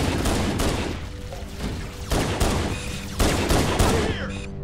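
Rapid bursts of gunfire from the Halo MCC campaign crackle loudly in quick succession, repeated volleys rattling close up across a few seconds with a brief pause near the end.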